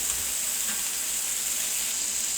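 A burger patty sizzles steadily in a hot pan while being pressed down, a close, even frying hiss that runs on without a break.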